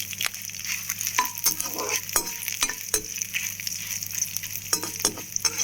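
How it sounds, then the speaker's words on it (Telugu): Chickpeas and dried red chillies fry in a pan with a steady sizzle, broken by repeated sharp clinks and scrapes of a spoon stirring against the metal, close up and without talk. "ఇప్పుడు వచ్చేసి మనం ఇవి బాగా వేగనివ్వాలి"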